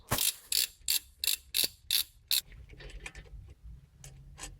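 A bolt is loosened from a Toyota Corolla 2.0 D4D brake caliper, with seven sharp ratcheting clicks in quick even rhythm followed by softer, irregular metallic handling sounds, close and fairly quiet.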